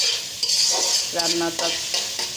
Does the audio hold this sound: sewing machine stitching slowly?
no